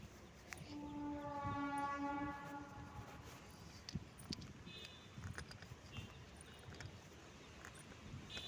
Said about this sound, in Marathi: रेल्वे चालू झाली बघा आता.